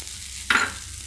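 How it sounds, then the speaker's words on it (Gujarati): Chopped capsicum hits a hot oiled pan for farali handvo, setting off a single sudden hiss of sizzling that fades over about half a second; no talk. "હવે આપણે એમાં કેપ્સિકમ નાખી દઈએ"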